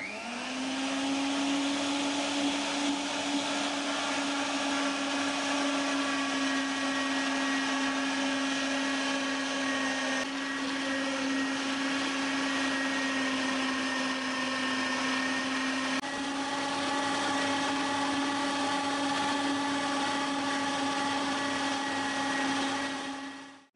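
An electric meat grinder whines with a steady loud motor hum as it minces meat, potato, onion, garlic and soaked bread for homemade cutlets, running continuously for over twenty seconds with no talk.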